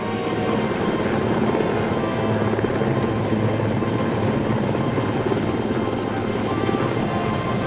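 A military helicopter from the Vietnam War era drones loudly and steadily, its rotor chop beating in a fast, even rhythm under a constant engine roar with no voices.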